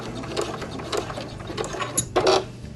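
A sewing machine stitches in reverse across quilted fabric, a soft mechanical ticking and whirring that repeats in short, light pulses, then ends with a brief stronger burst, close by with no talking.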